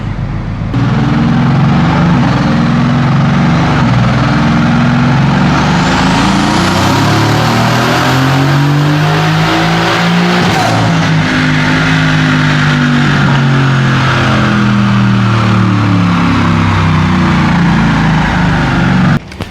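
Mercedes-AMG GT S with a new intercooler setup revving hard on a dyno, a loud, sustained engine roar that climbs steadily in pitch through a long pull, then eases off and rises again, alone without talk.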